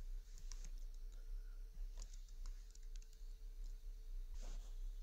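Rapid, close keystrokes on a computer keyboard while code is typed, an uneven run of light clicks with brief pauses, set against a low steady hum.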